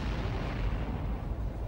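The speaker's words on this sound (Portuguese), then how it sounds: "Centenas de explosões controladas" Controlled blasting explosions go off during construction of the Itaipu dam, heard as a continuous heavy rumbling roar of booms with dense low-end energy that fills the whole stretch, loud and without talk.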